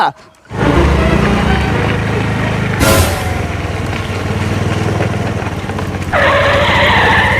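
A vehicle speeds along a road and skids, giving a loud, close, sustained roar of engine and tyres that swells into a sharp screeching squeal toward the end.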